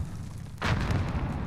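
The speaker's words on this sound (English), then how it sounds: "I'm tossing a nade." A grenade goes off in Call of Duty Warzone, a sudden muffled boom that cuts in partway through and then rumbles on as a sustained low roar, fairly loud against steady game background noise.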